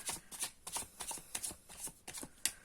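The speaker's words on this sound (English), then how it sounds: "Let me shuffle the cards a bit." Tarot cards are shuffled by hand in a quick run of crisp riffling bursts, close up and alone, with short pauses between flurries.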